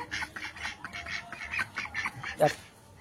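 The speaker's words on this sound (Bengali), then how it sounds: "তো এই দুটো হাঁস দিয়েই আজকে শুরু করছি।" Two ducks on a small homestead farm quack in a quiet run of repeated calls, with one sharper squawk near the end. Faint voices and farmyard background sit underneath.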